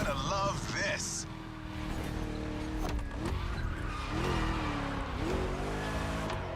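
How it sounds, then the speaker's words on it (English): A V8 car engine in The Crew Motorfest racing game roars steadily near and loud, with tyre squeal and shifting engine pitch, while a voice talks over it. "Just listen to that V8, like a chunky, down-tuned guitar riff."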